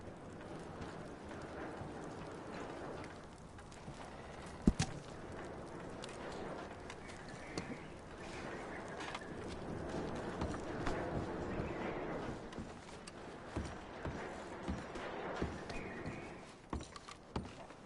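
Horse hooves in Assassin's Creed Odyssey clip-clop quietly at a slow, uneven walk, with occasional sharp clinks and soft shuffling in the background.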